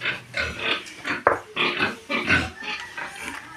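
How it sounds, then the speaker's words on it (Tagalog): Pigs grunting and oinking close by as they lie down in a pen, a run of short, rough grunts with brief pauses and one sharper squeal-like burst midway. "Naghiga mga baboy"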